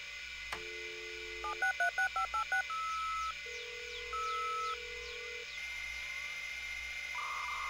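In My Summer Car, a burst of rapid telephone dialing beeps follows a click, then steady tones and warbling modem-style chirps, faint and electronic.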